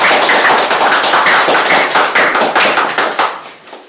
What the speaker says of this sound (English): I'd like to welcome to our stage, with a huge round of applause, our grammarian for today, Tatiana.